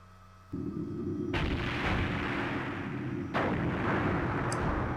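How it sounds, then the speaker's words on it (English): Deep booming blasts of cannon fire from the video game Skies of Arcadia: Legends, two heavy rumbling volleys a couple of seconds apart, loud and sustained, with no talking. "It sounds like cannon fire."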